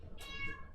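A cat gives a single clear, rising meow of moderate loudness close by, lasting about half a second over faint background noise.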